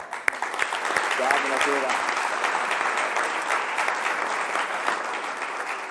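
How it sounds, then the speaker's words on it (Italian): Studio audience applauding live on air to celebrate a Lavagnese football win in a derby, steady dense clapping throughout with a man's brief greeting over it. "ti arriva questo applauso in diretta per festeggiare la vittoria della Lavagnese"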